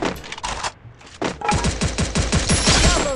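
Gunfire in a mobile shooter game featuring an M1887 shotgun: a few scattered shots, then a rapid, loud, regular burst of repeated shots, close and without talk.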